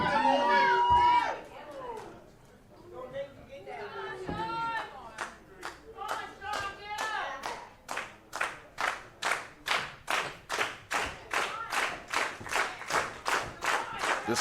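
A wrestling crowd claps in a steady rhythmic rally behind a wrestler, the claps growing louder and more even over time, with an announcer's voice talking over the start.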